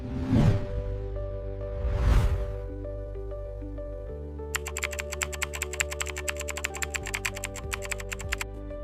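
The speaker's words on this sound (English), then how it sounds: "Watch how fast I can type it." Two whooshes are followed by fast, rapid typing on a computer keyboard, a dense run of quick clicky keystrokes with no talk.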